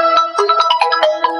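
Phone ringtone chiming a quick melodic pattern of bright, clipped tones, loud and close, repeating in steady bursts with nothing else heard.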